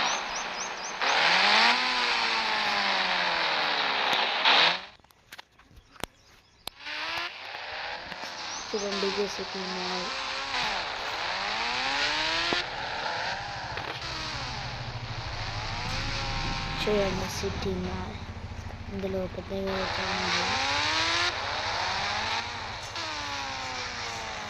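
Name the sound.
motorcycle engine in Indian Bike Driving 3D video game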